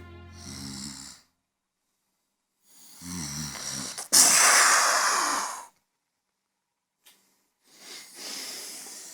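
Exaggerated snoring by a voice actor in a SpongeBob radio play, several long rasping snores and breathy snorts separated by silence, with one loud harsh burst.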